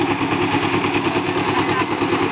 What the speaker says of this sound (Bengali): মেশিন অলরেডি স্টার্ট হয়ে গেছে